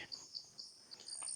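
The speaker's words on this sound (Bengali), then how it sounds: "এখনই ঝিঝি পোকার ডাকে মানে শব্দ শুনছি।" Faint, high-pitched cricket chirps repeating in short regular pulses, alone in a quiet setting on Danger Hill in Mirinja Valley, Bandarban, Bangladesh.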